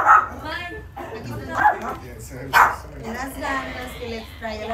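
Puppies give short, high yips and barks in several bursts while people talk over them nearby.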